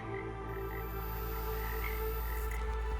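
A tree frog croaks in the Chernobyl exclusion zone, a dense, continuous croaking chorus over a steady low hum, loud and unbroken.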